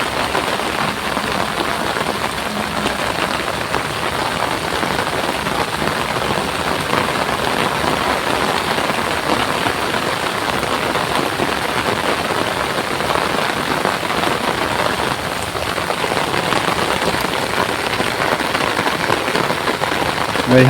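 Heavy rain beats steadily on nearby surfaces, a dense patter of drops that stays loud and constant, with a low engine-like hum faintly underneath.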